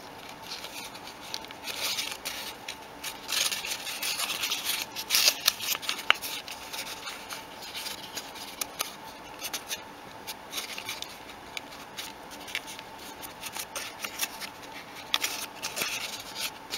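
Paper being folded and pressed into an origami box-pleat base, heard as close, quiet crinkling and soft creasing in an irregular run of small rustles throughout.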